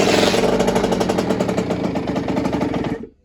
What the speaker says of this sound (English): It should fire first kick.